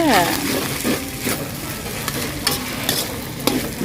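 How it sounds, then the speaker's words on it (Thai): Pork sausage (naem) stir-fried with glass noodles, green onion and young chilies in a pan, giving a steady sizzle with scraping stirring strokes and brief utensil clicks, close and continuous. "ใส่ต้นหอม ที่เตรียมไว้กับพริกหนุ่ม ลงไปคั่วเลยค่ะ"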